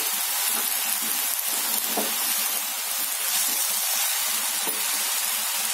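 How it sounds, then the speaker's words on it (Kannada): Moringa leaves frying in oil with onion in a pan, producing a steady close hiss of sizzling with faint stirring scrapes and no talking. "ಈಗ ತೊಳೆದಿಟ್ಕೊಂಡಿದ್ವಲ್ಲ ನುಗ್ಗೆ ಸೊಪ್ಪು ಹಾಕೊಳ್ಳೋಣ"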